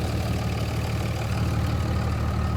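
A neglected third-generation Cummins diesel pickup engine idles steadily at full operating temperature, a loud, even low rumble with a constant knocking clatter throughout and no voices.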